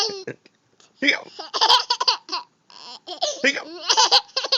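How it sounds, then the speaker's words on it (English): A young boy with the hiccups: small sharp hiccup sounds come and go amid giggling and playful vocal noises, close and lively, with bursts of laughter running through. "You have the hiccups."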